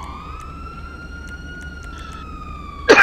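A police siren in the FiveM video game holds a steady, fairly loud tone with faint clicks over low background hum, ending in a sharp burst of noise.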